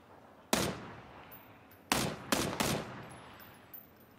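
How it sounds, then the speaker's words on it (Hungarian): Gunfire in the battle royale game PUBG during a duo tournament final: a single sharp shot, then a quick cluster of three close, loud cracks, with a faint soft one near the end. "nagyon szép lövések ezek"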